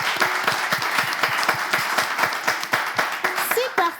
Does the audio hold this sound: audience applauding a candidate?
yes